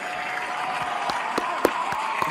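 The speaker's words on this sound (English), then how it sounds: "Yo, let's clap it up, baby" Scattered applause during an upbeat stock and options livestream, a few distinct sharp claps standing out over a steady hissing background, moderately loud and close.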